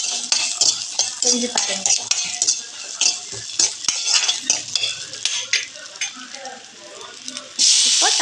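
Small shallots are sautéed in a pan, with a rhythmic series of close metal spoon scrapes and clinks over a soft sizzle, a short spoken phrase in the middle, and a louder burst of hiss at the end.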